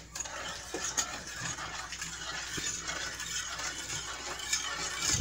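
A spoon stirs thick pudding mixture in a pan, scraping and clinking steadily against the metal with a few sharper taps, close up with no talk.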